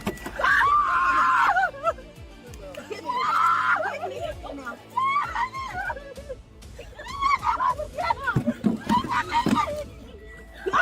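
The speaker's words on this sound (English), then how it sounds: "several people nearby began gathering and shouting in the parking lot" Bystanders in a parking lot yell and shriek during a physical struggle beside a car, with loud overlapping high-pitched voices in rising bursts, near and agitated, and short breaks between outcries.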